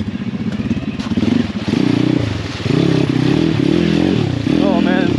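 An Apollo RFZ 150cc swapped pit bike rides a muddy, snowy trail with a loud, buzzing engine that revs up and down in surges, with clatter from the bike and a rider's voice talking briefly.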